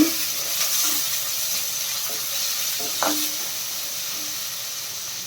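Onions and green chilies frying in oil for a country-chicken curry, a soft continuous sizzle broken by a few short stirring scrapes, close and quiet.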